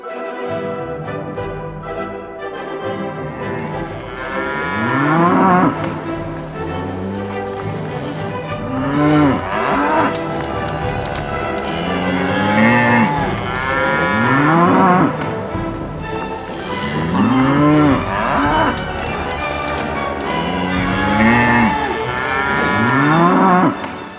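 Cattle being loaded at a Bass Strait island shipping point moo repeatedly, long drawn-out lowing calls from several animals overlapping at close range, loud and continuous.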